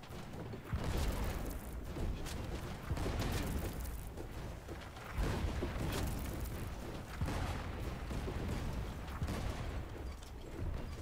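Ship cannons fire repeatedly during a Blazing Sails naval battle, deep booms and crackling volleys rolling in uneven bursts over a continuous din of game noise.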